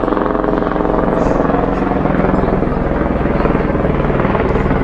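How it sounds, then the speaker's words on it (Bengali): A helicopter flies near Kedarnath, its dense, steady rotor thrum and engine roar filling the air loudly and continuously. "হেলিকপ্টার যাচ্ছে"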